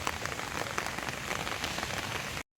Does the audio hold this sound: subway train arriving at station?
no